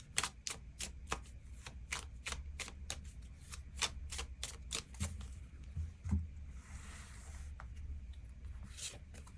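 Tarot cards are shuffled and drawn, a quick run of crisp, close riffling snaps and slides with a soft papery rustle through the middle, and no voices.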